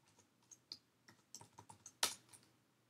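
Keystrokes on a computer keyboard while typing code for a PHP authentication script, a quiet run of separate clicks at an uneven pace with one sharper, louder key strike near the end.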